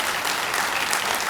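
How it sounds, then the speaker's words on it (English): Audience applauding staff at a presidential Family Day garden party, a steady dense patter of clapping held at even loudness throughout, with no voices over it. "let's give them a round of applause"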